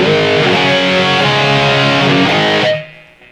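An overdriven electric guitar chord through a BOSS eBand, no compressor, rings out thick and sustained with a shimmering chorus wobble, then cuts off abruptly near the end.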